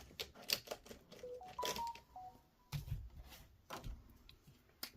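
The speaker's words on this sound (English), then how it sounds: "It's my bloody phone again, that is. I'm going to stop it on silent when I'm filming, because it doesn't stop." A mobile phone sounds nearby with a short run of electronic tones stepping in pitch, mixed with rustling and handling knocks in a quiet room.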